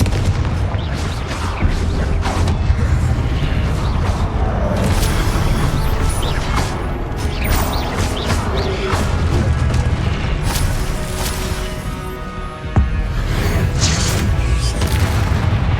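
Confringo blasting spells explode in the Hogwarts Legacy video game: loud, repeated booms and crashing impacts follow one another over a continuous rumble of game action.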